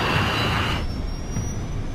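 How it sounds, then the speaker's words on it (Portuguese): An Arrow Air DC-8 jet airliner accelerates down the runway for takeoff in light snow: a loud, close, broadband jet roar with a thin high whine that eases slightly after the first second. "o DC-8 acelera até a velocidade de decolagem"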